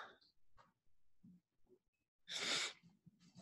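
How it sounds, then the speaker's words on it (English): A single loud sneeze bursts out near the middle, close and sharp, between faint scattered sounds and light breathing, with quiet talk before and after. "I have to sneeze."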